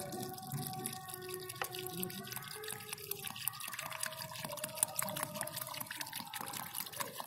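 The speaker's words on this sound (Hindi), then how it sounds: "पानी पूरा भर दें ताकि आपके" Water poured into a large pot of freshly planted money plant soil, a steady, quiet splashing and trickling stream lasting several seconds.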